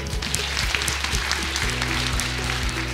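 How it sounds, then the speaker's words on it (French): Steady applause from a graduation audience at a Master's in Marketing diploma ceremony, a continuous dense patter of clapping hands filling the room for several seconds without speech. "mais on l'applaudit."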